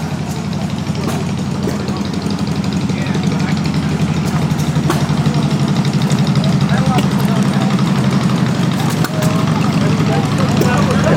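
Antique engines and generators run together on a trailer at a small private engine and tractor show, a loud, steady low droning hum with scattered clanks and ticks, under ongoing conversation.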